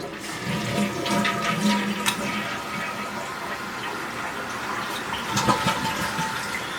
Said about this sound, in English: This big button down here at the bottom, that's your big flush.